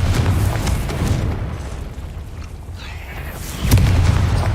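Confringo fire spell blasting in Hogwarts Legacy, a loud booming explosion at the start, then a quieter lull and a second heavy boom near the end, with rumbling game sound throughout.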